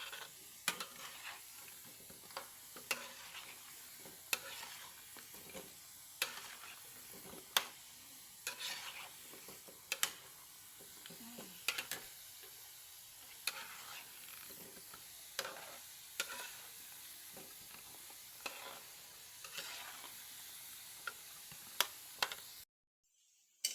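Sugar is stirred into a cassava karioka mixture with repeated sharp scrapes and knocks against the pot. They come at a loose, steady rhythm over a faint background hiss, fairly quiet overall.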